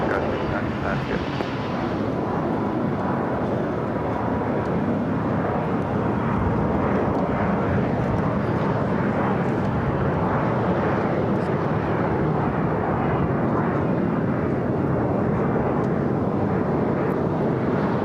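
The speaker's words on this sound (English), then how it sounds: "A Latam Dreamliner starting its taxi." A LATAM Boeing 787 Dreamliner begins taxiing at LAX, a broad, continuous jet engine roar heard from a distance and holding steady throughout, with faint radio chatter and voices underneath.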